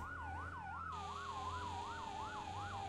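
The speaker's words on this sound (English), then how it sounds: "Turn our siren on here." Fire truck siren in the video game Firefighting Simulator, a rapid rising-and-falling wail that repeats steadily over a low engine hum, fairly faint and without speech.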